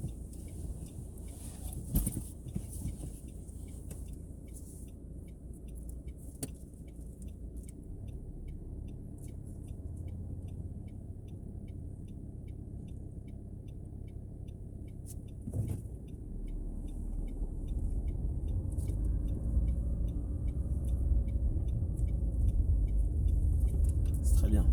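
A car accelerating during a driving lesson, its engine hum rising steadily from a low idle rumble to a louder, fuller drone, with people talking inside the cabin.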